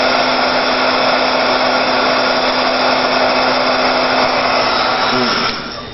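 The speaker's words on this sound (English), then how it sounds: "if you don't mind listening to the heat gun, the next thing we need to do is to dry these leaves" Heat gun blowing hot air to dry painted leaves, a loud, steady, close whine with a constant tonal hum that runs unbroken for several seconds before winding down at the end.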